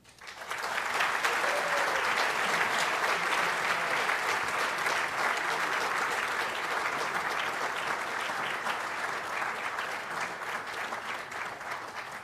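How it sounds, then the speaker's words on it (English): Sustained applause fills a large hall at a military public affairs awards and hall of fame induction ceremony, many hands clapping in a dense, even wash that tapers slightly toward the end. "Please join us in one last round of applause for the Public Affairs Hall of Fame Class of 2018 inductees."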